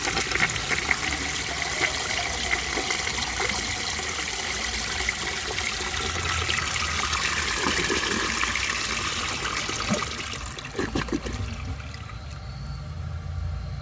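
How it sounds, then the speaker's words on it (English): A 1927 Peerless low tank toilet flushing with a dry bowl: a long, loud, steady rush of water that stays strong for most of the time, then tapers into gurgling and trickling at the end. "For the first flush test, let's see how it flushes with a dry bowl."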